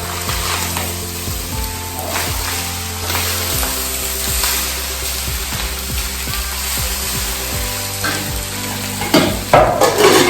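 Tomato puree fries in a pan, a loud constant sizzle broken by repeated scraping and stirring strokes from a utensil, growing busier near the end.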